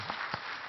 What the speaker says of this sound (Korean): 우리 자녀들 위해 다시 한번 격려의 박수 한번 드리겠습니다.